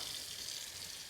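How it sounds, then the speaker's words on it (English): Tepid tap water runs steadily from a faucet into a kitchen sink, a continuous close hiss-like rush with no speech. "All right, so now I'm going to turn my water on. Tepid water, not hot,"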